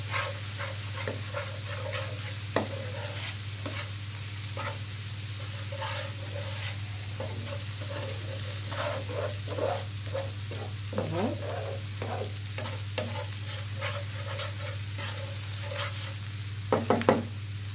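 Eggplant and vegetables frying in a pan, a soft steady sizzle with scattered scrapes and clicks of stirring over a low constant hum, fairly quiet and free of talk.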